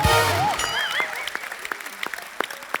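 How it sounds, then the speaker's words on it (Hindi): A studio audience at a comedy talk show bursts into applause for the Begum Jaan cast, the clapping starting strong then thinning into scattered claps, with cheering voices over the first moments. "एक बार बेगम जान की पूरी स्टार कास्ट के लिए जोरदार तालियां।"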